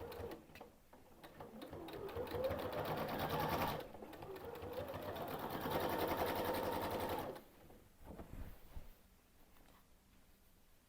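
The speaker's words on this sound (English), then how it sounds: "I am going to back stitch here to reinforce that start." A sewing machine stitches quilt binding and back stitches, a steady, close mechanical whir running for several seconds with a brief pause and change in pace, then quieter handling noises.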